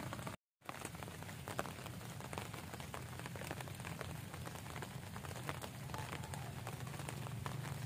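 Rain in a thunderstorm beside a fishing spot, falling as a steady, dense patter of drops that fills the whole stretch after a brief dropout near the start.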